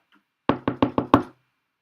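Five sharp knocks on a surface in quick, even succession, close and loud, rapped right in front of a dog, with a faint sound just before and quiet after.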